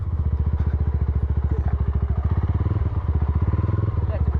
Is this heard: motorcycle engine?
yes